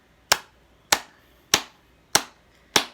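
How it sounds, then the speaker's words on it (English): Five sharp hand claps ring out alone at an even, unhurried pace, each one loud and close with a short decay. "You're making noise, clapping."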